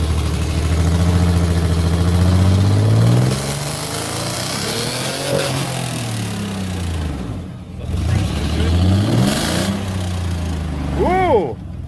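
A loud turbocharged Chevrolet Silverado pickup engine revs to redline in sweeping pitch rises and falls, close by, with a rough idle between pulls and brief shouting voices.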